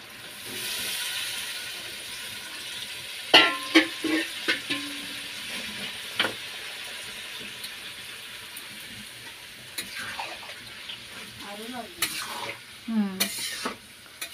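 Water splashes into a hot frying pan of oil and spices, bursting into sharp sizzles and hiss alongside scraping stirs and pan clatter, fairly close.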